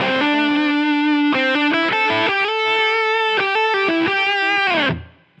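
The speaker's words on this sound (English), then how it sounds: "on sustained notes, you will have a little bit of echo, and then as soon as you stop and drop below that threshold we've set, boom, it chops it off" Distorted electric guitar plays sustained notes and quick phrases through a Line 6 Helix ducked delay modelled on the TC Electronic 2290, with light echo trailing the notes and cutting off abruptly when playing stops.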